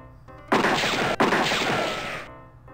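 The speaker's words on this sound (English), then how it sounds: "I'm gonna shoot the moose." A single loud, harsh burst of gunfire aimed at a moose in the adventure game Freddy Pharkas rings out close and alone, lasting under two seconds with a brief break in the middle before fading.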